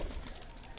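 Pigeons cooing on a rooftop on a cold winter morning, soft low murmuring calls blending into a steady faint background over a brief moment.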